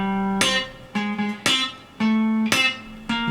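Country guitar train beat lick played slowly: muted low-string chugging alternating with bright plucked chord strikes in a steady pattern, close and clear with no talk.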